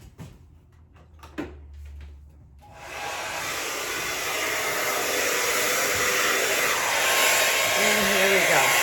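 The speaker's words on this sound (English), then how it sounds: "I'm gonna grab my blow dryer" A handheld blow dryer switches on after a few quiet handling noises and runs with a steady, loud whooshing hiss that holds to the end, used on a poured acrylic painting made with Liquitex.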